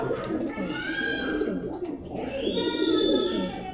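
Pigeons coo close by in a cage in soft, repeated throaty calls, mixed with a low murmur of background sound.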